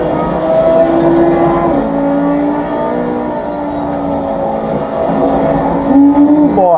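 GT3 race car engine circling Bathurst's Mount Panorama in the sim game Assetto Corsa Competizione, a loud steady drone with rising and falling gear-change pitch sweeps, close and continuous with no talk.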